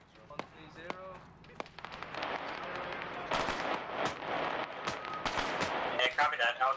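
Gunfire crackles through a military video game in sharp single shots and quick bursts, some near and some farther off, building denser toward the end. Radio-style talk runs over the shooting.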